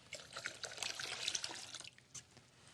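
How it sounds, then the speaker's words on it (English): Cold water pours from a cup into a bowl of Jello for a Halloween snake dessert, a soft, brief splashing trickle that tapers off near the end. "Now add 2 cups of cold water."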